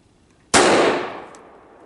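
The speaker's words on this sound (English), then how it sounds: "first up is the Ruger. And yes, I really like shooting this pistol." A single loud, sharp shot from a Ruger 9mm pistol at an outdoor penetration test, cracking suddenly and then decaying over about a second.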